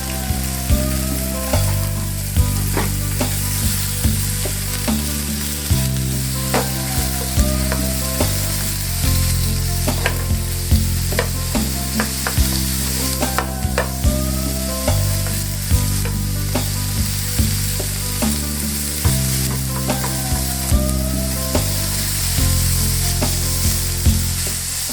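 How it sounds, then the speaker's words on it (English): Steak sears in a single pan, giving a steady, close sizzle and crackle with faint clinks of stirring, and no voices. "Sear the steak on all sides for about 2 minutes."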